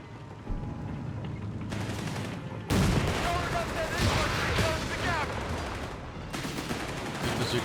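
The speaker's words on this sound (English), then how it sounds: "Bazooka fire there." Company of Heroes 3 battle, desert forces against British: bursts of bazooka and gunfire crack and boom loudly in quick volleys over a dense rumble of combat, with voices speaking amid the noise.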